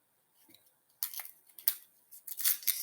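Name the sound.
cutting a red onion for spinach sauce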